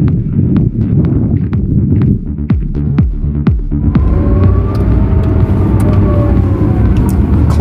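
Rimac Nevera electric hypercar driving on a tight, twisty canyon road above Malibu, heard as a loud, steady roar of road and wind noise with thumping impacts and a rising electric whine, close up with no talk.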